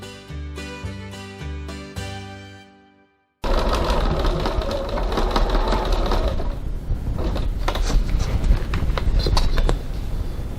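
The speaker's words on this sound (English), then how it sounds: "I'm going to stitch a row of stitching right close next to the first row just to reinforce my seam" Sewing machine running a reinforcing row of stitches along a vinyl bag seam, starting with short stitching bursts, pausing briefly, then a steady continuous mechanical whir with rapid ticking, close and fairly loud.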